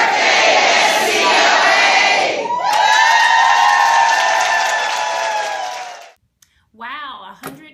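A crowd shouts a happy 100th birthday greeting and cheers loudly and at length, then breaks off into a short silence before scattered voices return.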